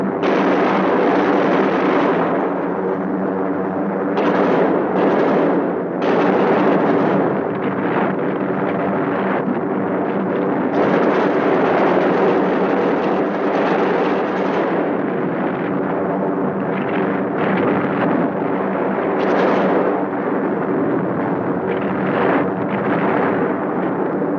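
A sustained, loud roar of bombs exploding beneath a WWII B-17 and B-24 bombing raid in 1944, heavy rumbling blasts merging into a continuous thunderous din with wind-like noise and no pauses.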